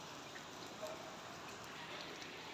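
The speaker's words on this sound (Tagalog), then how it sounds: "ayan, umuulan pa rin" Steady, soft rain patters continuously, a fine wash of drops with no voices, fairly faint and even throughout.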